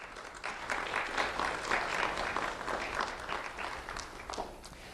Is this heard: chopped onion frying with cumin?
no